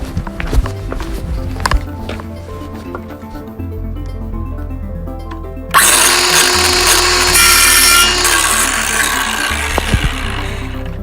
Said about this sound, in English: saw down along the guide like this and run this part right here up against that 1x6, then the blade is going to cut exactly 1 inch from there